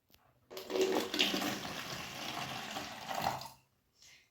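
Water gushes and splashes into a bottle for about three seconds, loud and close, with a bubbling trickle before it stops abruptly.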